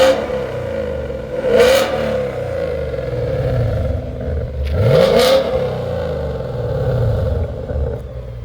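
A 2019 Mustang GT with a Corsa Extreme cat-back active exhaust in quiet mode revs up twice with a restrained, muffled exhaust note, idling low between the pushes of the throttle.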